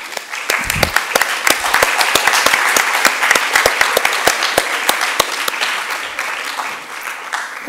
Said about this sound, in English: please join me in a round of applause for the organizers of this program